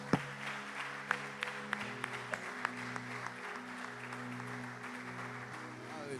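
Church congregation applauding at the close of a Portuguese-language service, a steady wash of clapping with a few sharp nearby claps and a sustained musical tone underneath.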